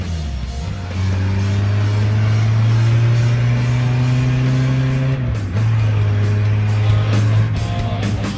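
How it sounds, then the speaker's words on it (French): A Citroën C15 with a swapped turbocharged engine drives at steady speed, its loud droning engine note holding constant and dipping briefly before resuming. No one speaks. "on a quand même été faire un tour de C15. Le bruit est admirable"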